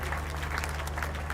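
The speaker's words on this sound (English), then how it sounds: "A round of applause." Crowd applause at an outdoor burial ceremony, a dense patter of clapping sustained throughout over a steady low hum, fairly distant and moderate in level.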